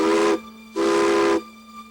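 Durango & Silverton steam train whistle sounding at departure from Silverton, two loud sustained blasts with a short gap between, hissing steam underneath.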